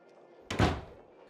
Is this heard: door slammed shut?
yes